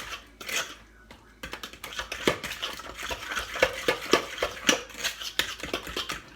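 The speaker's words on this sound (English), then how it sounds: "you want to stir it all together" A spoon scrapes and clinks against a bowl while banana muffin batter is stirred, an uneven run of close, light knocks and swishes with a quiet voice now and then.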